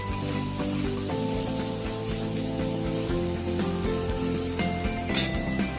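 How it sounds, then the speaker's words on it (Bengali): Steady sizzling of water spinach frying in a little oil in a pan, a continuous crackling hiss with no talking. "কত অল্প তেলে আমি শাক ভাজা করলাম"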